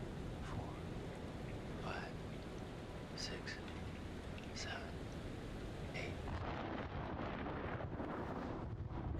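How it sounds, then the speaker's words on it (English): Steady heavy rain sweeps through a storm in the video game Men of Medan, a dense wash of noise over the whole stretch with faint voices, though no distinct thunderclap stands out. "Storm's 8 miles away."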